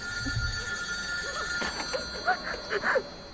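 A telephone rings faintly with a few short repeated electronic trills under low background noise, no speech heard.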